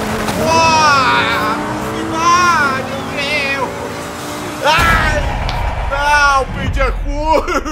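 Audi R8 racing in Forza Horizon 5 on Xbox Series X, its engine loud and close with rising and falling revs through gear changes, continuous under an excited speaking voice.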